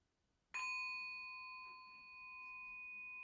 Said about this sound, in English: receiving the sound of the bell